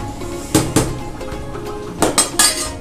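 A spoon clinks against a pan while adding ghee for white sauce pasta, a few sharp metallic knocks close up over a steady kitchen background hum.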